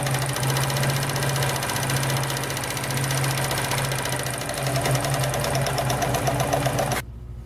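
A Morse Fotomatic III sewing machine runs steadily at close range, its needle rattling rapidly while stitching an automatic buttonhole, then stops abruptly near the end.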